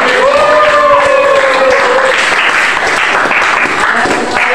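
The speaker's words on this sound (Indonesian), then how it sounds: "berikan tepuk tangan." A classroom of students claps together in steady, dense applause, with a voice faintly audible over the clapping early on.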